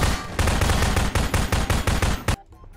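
Rapid automatic gunfire in the Prop Hunt game: a loud, close burst of evenly spaced shots lasting about two seconds, then cutting off abruptly to quiet.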